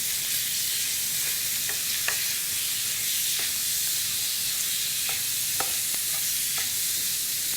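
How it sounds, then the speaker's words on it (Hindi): Garlic paste stirred into hot frying oil alongside chicken, giving a steady sizzle with light scraping clicks of the spoon scattered throughout. "साथ ही साथ मैं इसमें शामिल कर दूंगी लहसुन का पेस्ट और इसको डाल के आपने मिक्स करना है।"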